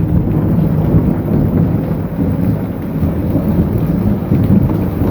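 Heavy rain pours with a steady, dense roar. Low, rumbling thunder rolls underneath it without a break, loud and close, and no one speaks.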